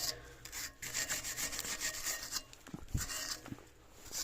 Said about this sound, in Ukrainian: зараз я трішки його відчищу від цієї землі